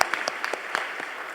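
Congregation at a Korean church's Sunday service clapping in welcome, a short burst of thin, scattered claps from a small crowd, moderately close, with no talk over it.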